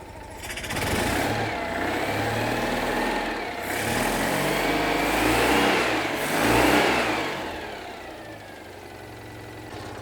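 A Citroen 2CV engine runs steadily and rises and falls slightly in pitch, with a buzzy, rattly exhaust note.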